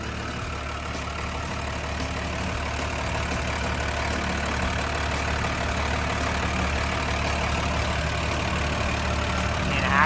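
The diesel engine of a Komatsu WA300-1 wheel loader idles steadily and close by, a constant low rumble with a faint mechanical rattle, no speech.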